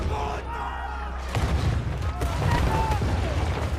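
An Allied tank in a First World War film fires shells at German soldiers, heavy booms bursting through a dense wash of battle noise and shouting crowd voices.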